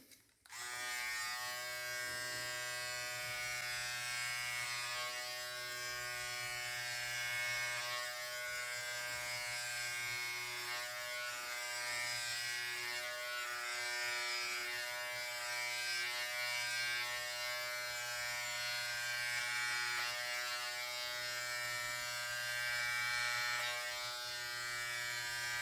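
A Philips Series 5000 BT5502/15 beard trimmer set to 0.4 mm, its lowest length, runs continuously as it cuts beard hair, giving a steady close electric buzz with a low hum, alone for the whole stretch.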